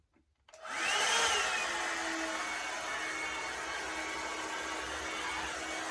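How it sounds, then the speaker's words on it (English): A Revlon One-Step hair dryer volumizer whirs up on its low setting, a quick rising spin-up into a steady, close, breathy rushing of air with a faint motor whine that holds constant. "I just used my blow dryer with this."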